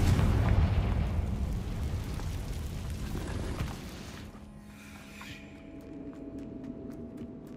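Confringo fire spell explosion in the video game Hogwarts Legacy, a loud rumbling blast with dense low boom that sustains for several seconds before settling into a quieter crackling tail with faint tonal game ambience.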